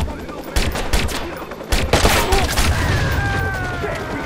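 Gunfire in the video game Watch Dogs: several loud, close bursts of rapid shots crackle in quick succession, followed by a steadier rattle of firing and a thin whine as the shooting carries on.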